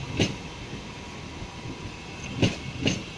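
A British Rail Class 323 electric train at Manchester Piccadilly gives a few distinct clacks of wheels over rail joints against a quiet background hum.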